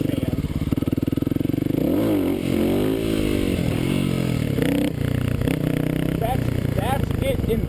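A Kawasaki KLX250 dirt bike revs hard for a clutch-up wheelie, the engine note climbing and dropping in quick surges, loud and close, with scraping and clatter as the rider pulls up.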